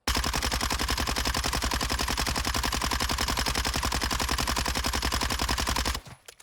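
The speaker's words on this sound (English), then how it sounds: "I shot twice without changing anything." Sustained rapid automatic gunfire from a no-recoil meta gun in Call of Duty: Modern Warfare II, a loud, steady stream of shots for about six seconds before cutting off abruptly.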